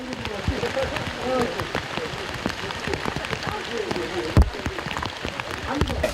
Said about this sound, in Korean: 오전부터 북한산을 적시던 빗방울이 번개를 동반하면서 그칠 줄 모릅니다.